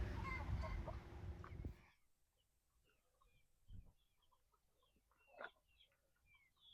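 Chickens of white leghorn and silkie mix landrace breeds make a loud burst of clucking at first, which then drops to scattered, quieter clucks and chirps over a faint background.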